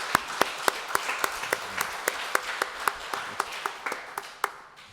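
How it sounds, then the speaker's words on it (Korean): Church congregation clapping at a Wednesday service, sharp distinct claps in a regular rhythm, fairly close and fading slightly toward the end. "우리 육적 경외의 박수 한번 크게 보내드릴까요?"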